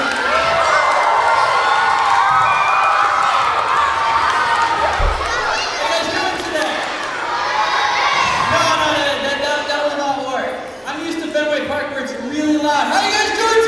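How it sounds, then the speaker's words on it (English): A crowd of children cheering, shouting and clapping to greet a Boston Red Sox guest, loud and sustained with excited voices throughout. "Can you give him a nice broken sound applause?"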